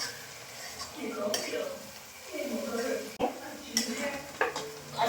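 Crushed peanuts are stirred and fried in oil in a pan, giving soft scraping and clinks of a utensil against the pan with a faint sizzle, while people talk in the background.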